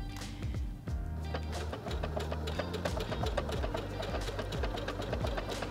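A Heavy Duty 6800C sewing machine runs steadily while stitching a decorative tulip pattern, its needle beating in a fast even rhythm close by, with no talking.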